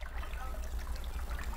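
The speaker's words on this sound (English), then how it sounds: "I can hear the sound of splashing as the two of them search for the items." Water splashes and trickles in a bath in a video game puzzle scene, a soft continuous wash of liquid sound over a low droning background.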